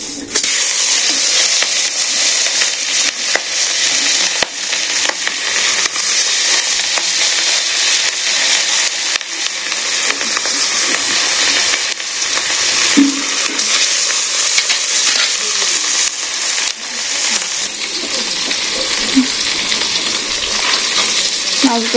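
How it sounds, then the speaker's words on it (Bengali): Rohu fish frying in hot oil in a kadai in a village kitchen makes a loud, continuous bubbling sizzle throughout, with occasional small pops and clinks. "তো আমি এখন কড়াইতে মাছগুলো দিয়ে দিতেছি।"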